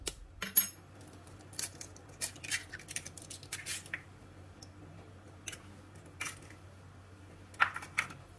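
Two eggs are beaten in a bowl, giving quiet, irregular light clinks and taps in scattered bursts with pauses between them, and no one speaks.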